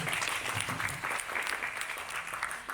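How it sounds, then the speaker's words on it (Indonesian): An audience at an Indonesian talk event applauds in a steady, even burst of many hands clapping, sustained and moderately distant throughout. "Tepuk tangan dulu teman-teman semua"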